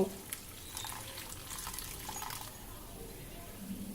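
A little water poured into a small bowl of sauce mixture with vinegar, black pepper powder and chili flakes, heard as a steady trickling splash lasting a couple of seconds. Faint background noise follows.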